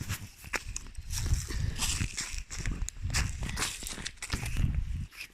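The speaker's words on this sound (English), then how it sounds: "I love the sound of the crunching the leaves" Footsteps crunch through dry leaves along an outdoor nature walk, a steady run of close, rustling, crackling steps with low wind rumble underneath and no talking.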